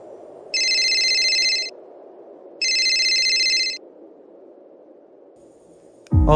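A telephone rings in two long bursts separated by a pause, over a low steady hum, ending with a sharp click as the call is picked up.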